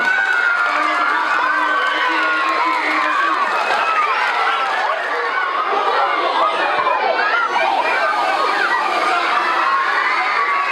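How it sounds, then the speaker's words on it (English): Schoolchildren at a science presentation at the Doran School clap and cheer for a volunteer, a loud continuous roar of shouts, whoops and clapping from a crowded room. "Round of applause for Alina."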